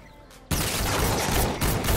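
Rapid gunfire from a weak gun in the video game Fortnite: after a half-second of quieter game ambience, a loud, continuous burst of shots runs to the end, dense and close, with a brief dip partway through.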